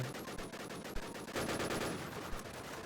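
Rapid automatic gunfire rattles in a Lego-map shooting video game, fairly faint and continuous across a few seconds.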